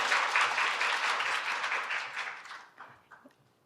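Audience applause welcoming a speaker at a Korea University AI forum, a steady dense wash of clapping that thins and fades out over the last second.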